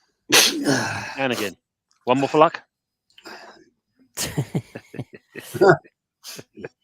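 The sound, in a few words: person sneezing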